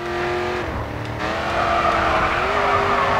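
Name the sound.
tire squeal of Ford Mustang drifting in video game Grid 2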